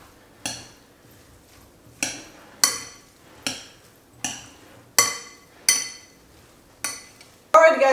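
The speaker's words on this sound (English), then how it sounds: "now let's mix our ingredients" Ingredients for a Mediterranean orzo salad are mixed in a bowl with a utensil, giving about eight evenly spaced clinks, close and distinct, in a steady rhythm over otherwise quiet room tone.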